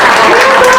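Audience applauding at a panel on the creative process, a brief dense burst of clapping heard at close range.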